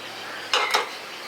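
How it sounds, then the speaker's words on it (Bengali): A metal kadai is set down on a gas stove in a village kitchen, two quick clanking knocks close by against a faint background hiss. "কড়াইটা বসিয়ে দিচ্ছি।"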